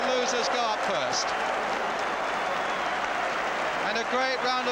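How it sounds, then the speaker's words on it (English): A stadium crowd at the 1973 League Cup Final between Tottenham Hotspur and Norwich City applauds in a broad, steady roar, and someone commentator talks over it at the start and end. "And a great round of applause from the side who came here."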